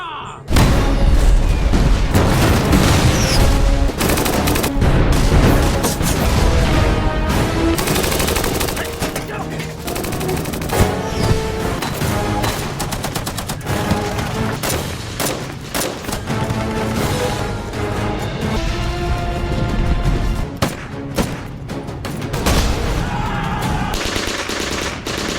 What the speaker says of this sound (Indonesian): mereka pun menyusun rencana dan langsung menyerang tentara Amerika menggunakan artileri dan senjata anti-tank